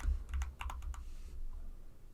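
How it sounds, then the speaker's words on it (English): Quick run of keystrokes on a computer keyboard, about seven crisp clicks in the first second, then a low steady room hum with no more typing. "So I'm trying to type in 1080."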